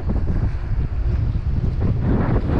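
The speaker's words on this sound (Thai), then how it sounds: "ลมก็จัด" Strong wind roars steadily at sea in the Gulf of Thailand off Chumphon during rain, with constant buffeting gusts and a low rumble of water close to the microphone.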